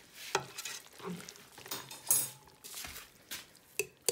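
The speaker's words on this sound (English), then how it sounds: "Now the mixing." Carbonara pasta is stirred in a pan with raw eggs and pancetta, giving scattered soft scrapes and clinks of utensil against cookware, with a few sharper metallic taps, fairly quiet and without talk.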